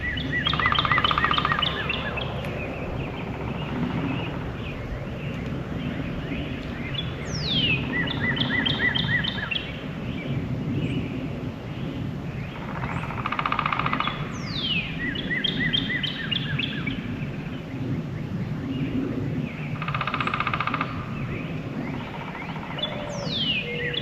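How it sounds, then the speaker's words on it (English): Several birds sing in bursts across a quiet outdoor ambience, with clear descending whistled phrases repeating every few seconds, moderately near. "listen to all those birds"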